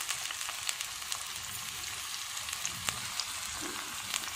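Tomatoes sautéing in a pan for mutton karahi make a steady, moderately faint sizzle with small crackles and an occasional soft scrape, continuous throughout with no talking.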